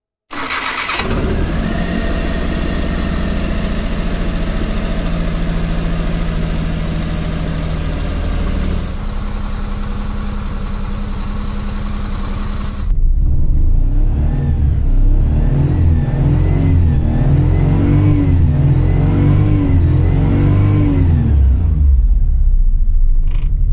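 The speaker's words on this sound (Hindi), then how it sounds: "अब सुनते हैं इसके दो मॉडल पेट्रोल इंजन की साउंड" A 2003 Maruti 800 petrol engine cranks and catches, idles steadily, then revs up louder with a rougher, throbbing rumble, close up and alone.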